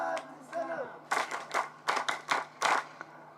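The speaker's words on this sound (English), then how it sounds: "Let's clap for him." Audience applause for a doctor at a canine unit induction course pass-out ceremony: several bursts of hand clapping, fairly close, over faint background voices.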